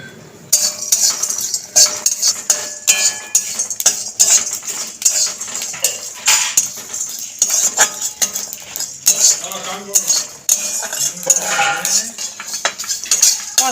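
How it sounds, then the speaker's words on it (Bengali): Whole spices and garlic dry-roasting in a hot empty kadai, stirred with a metal spatula that scrapes and clinks against the pan in quick, irregular bursts, close and loud, with a faint crackle underneath. "খালি কড়াই গরম হয়ে গেছে, গোটা মশলাগুলি সব নেড়ে ছেড়ে একসাথে ভেজে নেব"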